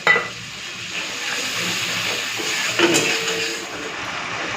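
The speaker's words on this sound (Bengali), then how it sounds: "একটুখানি জল দিয়ে দিচ্ছি যাতে মশলাটা পুড়ে না যায়" Water poured onto frying spice masala with Kashmiri red chilli powder sets off a steady, loud hiss and sizzle that holds evenly throughout, with a brief scrape of stirring in the pan.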